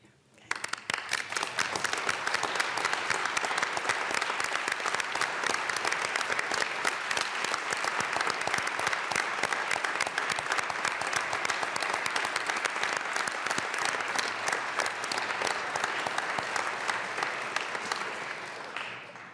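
Sustained applause from members and guests in a state House legislative chamber, a dense even wash of many hands clapping at moderate distance, holding for nearly twenty seconds before tapering off.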